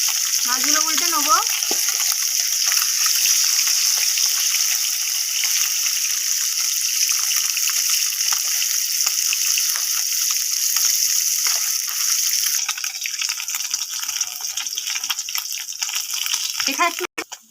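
Fish fried in a pan of oil sizzles loudly and steadily at close range, a continuous crackling hiss that eases slightly toward the end, with a brief voice near the start.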